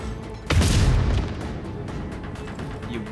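A single heavy gunshot from the video game Warhammer 40,000: Rogue Trader, a loud booming blast that rings out briefly and fades into a low rumble, alone without talk.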